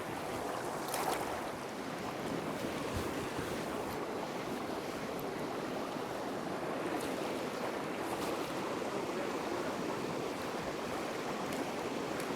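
Water flowing in a fish-filled river running over a drop-off into a slower pool, a constant broad rushing wash with occasional wind buffeting, steady and fairly close.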